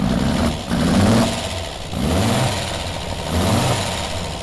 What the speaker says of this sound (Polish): Bardzo ciekawy trzygaźnikowy silnik